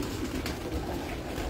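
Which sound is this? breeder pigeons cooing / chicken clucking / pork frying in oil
breeder pigeons cooing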